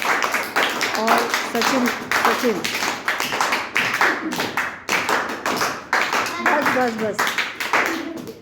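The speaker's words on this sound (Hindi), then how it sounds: "तो इनको एक ताली से इनका स्वागत करिए" A classroom of students clapping in uneven bursts of quick, close hand claps to welcome classmates, with a teacher's voice speaking between the rounds.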